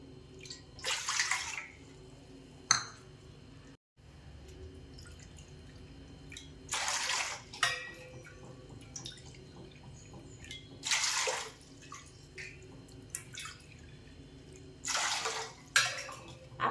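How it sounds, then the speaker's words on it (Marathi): Water is poured in separate measured bowlfuls into a thick-bottomed pot on a gas stove, making several splashing bursts at regular intervals. Quieter drips and a low background hum fill the gaps between pours. "इथं मी त्याच वाटीने मोजून आठ वाटी पाणी घेते"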